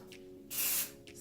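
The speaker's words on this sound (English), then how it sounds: "spray it with my Living Proof Full Dry Volume Blast amazing hair product" A single short burst of Living Proof Full Dry Volume Blast hair spray, a steady hiss lasting under half a second, close to the mic against quiet background hum.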